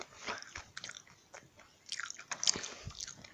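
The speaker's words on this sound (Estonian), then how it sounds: "Jah, ma söön küpsiseid." Close, quiet crunching and biting of cookies, irregular chewing bursts with small crisp cracks and soft wet squishes, no talking.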